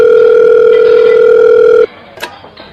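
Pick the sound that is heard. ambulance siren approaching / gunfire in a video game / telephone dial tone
telephone dial tone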